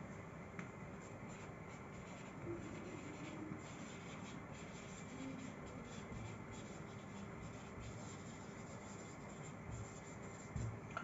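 Writing on a classroom board during a lesson: a soft, continuous scratching and rubbing with small uneven strokes, faint and steady against a dull background.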